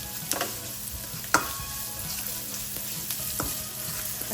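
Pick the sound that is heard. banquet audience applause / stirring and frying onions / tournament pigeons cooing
stirring and frying onions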